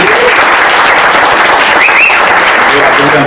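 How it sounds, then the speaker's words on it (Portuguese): Audience applause at a live event, a dense and continuous wash of many hands clapping, loud and sustained with no break. "Vamos começar aqui pedindo uma forte salva de palmas"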